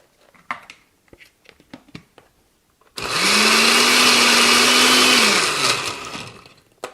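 A blender whirs loudly and steadily for about three seconds as it blends produce for juice, then winds down. Quiet handling clicks and bumps come before it starts.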